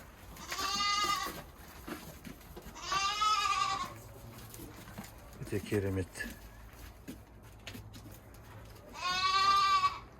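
Dairy goats on a home farm in Kyzylorda give three loud, wavering bleats spaced a few seconds apart, with brief talk and soft farmyard noise in between.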